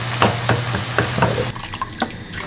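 Food browning in a pan for a red chili enchilada casserole, a close sizzle with repeated scraping stirs at a steady rhythm, fairly loud.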